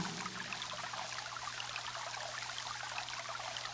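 A small stream flows steadily, a soft continuous trickling and bubbling close by, faint and alone with no voices.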